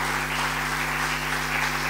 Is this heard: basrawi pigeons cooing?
no